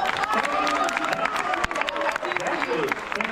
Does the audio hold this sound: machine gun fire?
no